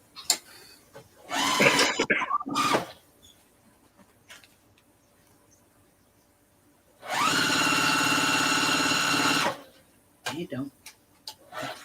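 A sewing machine sews a large reusable tote bag in one steady two-second run. Short bursts of nearby talk come before and after it.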